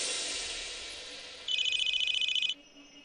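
A telephone rings in a TV drama scene, one sustained electronic trill lasting about a second, loud and clear after a stretch of soft background hiss, with no talk over it.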